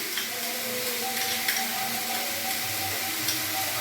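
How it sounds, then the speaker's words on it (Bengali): Ginger, garlic and green chili paste with chili powder frying and being stirred in a pan, a steady close sizzle running unbroken with soft scraping of the stirring, no voices. "এবার আমি এটা ভালোভাবে নেড়ে নেব।"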